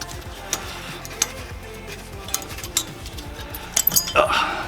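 Small metal clinks and taps sound close up as brake pad bracket holders are pulled off a car for greasing, sparse irregular knocks over a quiet workshop background.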